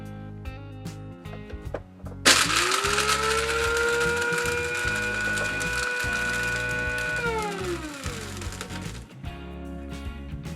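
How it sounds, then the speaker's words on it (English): An electric spice grinder whirs steadily for several seconds as it grinds allspice berries and cloves, its pitch sagging slightly near the end before it cuts off, with faint kitchen noise before and after. "I'm going to go with 20 allspice berries and 3 cloves. But I got to grind them up first."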